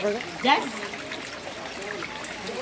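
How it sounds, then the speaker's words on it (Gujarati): Water trickling and dribbling into a small temple of Doneshwar Mahadev, a soft continuous splashing flow close by, with people speaking over it. "પાણી આવે છે આમાં અંદર"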